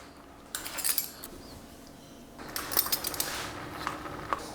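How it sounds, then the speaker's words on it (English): Spoon scraping and clinking in a pot of beans seasoned with garam masala, salt and chili, in bursts of close metallic stirring separated by a quiet pause. "Give that a bit of a stir."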